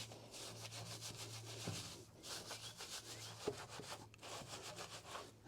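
A detail brush scrubs back and forth on a foamed car wheel, giving a faint, rhythmic bristly rubbing in steady strokes with short pauses, quiet and close.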